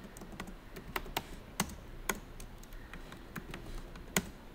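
Typing a sudo chroot command on a computer keyboard, a quiet irregular run of distinct key clicks with a few harder taps, close and alone.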